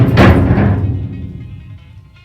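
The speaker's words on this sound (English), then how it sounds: "Imagining that sound as the door closes on" An old jail cell door in a historic pioneer park swings shut with a single heavy thud at the start, and its low resonant rumble fades away over about two seconds. No one speaks.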